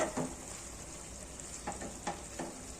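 Corn vegetable curry cooks in a pan over a medium flame, giving a faint, steady sizzle broken by a few soft stirring scrapes.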